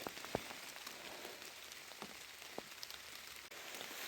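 Heavy autumn rain pours down steadily outdoors, a dense hiss broken by scattered sharper drops striking nearby surfaces, fairly quiet overall.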